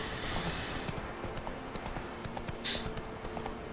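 Rhythmic hoofbeats of the horse Roach galloping in The Witcher 3, a steady clip-clop over soft ambient game sound, with a brief higher tone partway through.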